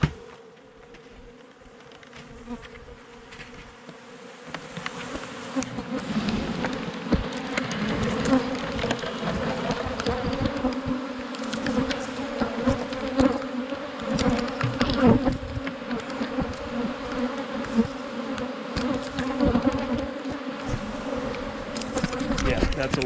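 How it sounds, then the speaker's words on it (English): A dense swarm of bees buzzes steadily around a cutout from a structure, loud and close, with the drone thickening as the clip goes on and faint handling noises beneath. "Yeah, that's a lot of bees."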